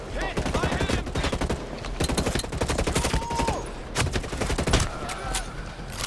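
Rapid bursts of automatic gunfire from the tactical shooter game Ghost Recon Breakpoint crackle close and loud, volley after volley with brief gaps, and a voice speaks faintly between the shots.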